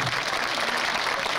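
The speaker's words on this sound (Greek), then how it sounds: "αξίζει το χειροκρότημα για τα νέα παιδιά που ασχολούνται" Continuous audience applause at a music and dance performance, many hands clapping in a dense, even wash for young musicians, loud and close throughout the short stretch.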